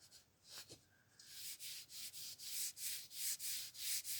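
Rhythmic back-and-forth rubbing as ageing paste is worked into canjo wood by hand, a steady series of close, broadband strokes that grow louder and more regular after a brief quieter start.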